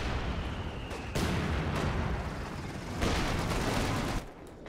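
Artillery fire rumbling through a strategy-game battle: loud, booming blasts with surges at regular intervals over a heavy continuous roar, ending with a sudden drop to quieter noise.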